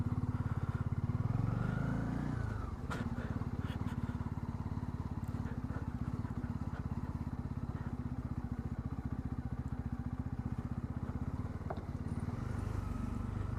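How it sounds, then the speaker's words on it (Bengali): A motorcycle descends a hill road in West Sikkim, near Pelling, with the engine braking. Its close, steady drone runs unbroken throughout and is a little louder for the first couple of seconds. "ডাউন হিলে সব সময় ইঞ্জিন ব্রেক।"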